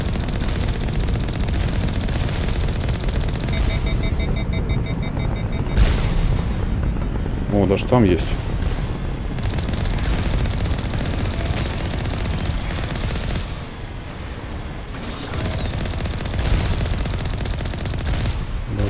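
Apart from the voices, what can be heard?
gunfire from a gun in the video game Mass Effect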